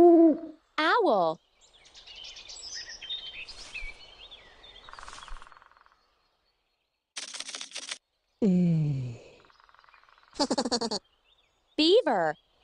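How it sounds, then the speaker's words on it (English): Owl hooting in a children's animal game, a few short hoot calls alternating with other synthetic game sounds and brief silences, with a voice naming animals. "Owl."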